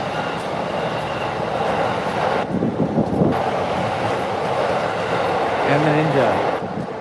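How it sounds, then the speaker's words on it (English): A train rumbles past on backstreet tracks in Tokyo, a steady loud roar with a brief whine near the end, while people talk nearby. "the train's over here"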